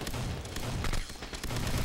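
Gunfire rattles in the online shooter game Red Crucible: dense, overlapping shots crackle in a continuous barrage, loud and close, with no pause between bursts.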